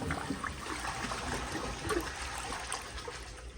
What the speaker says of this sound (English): Here's another flush